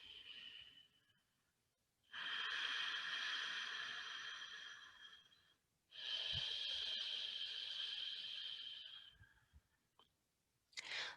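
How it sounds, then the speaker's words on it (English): Slow, deep breaths during a guided mindfulness exercise, two long airy inhales or exhales each lasting several seconds with quiet pauses between, close and alone. "Let's take a few inhales and exhales and listen to the breath and feel the breath."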